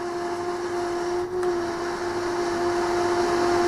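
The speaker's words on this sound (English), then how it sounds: "RPM starts to oscillate a bit, and it made a lot of noise." Two fans, each run by its own PID controller, are pushed against each other, producing a loud, steady whirring drone with strong tones and a slight wavering in the hum.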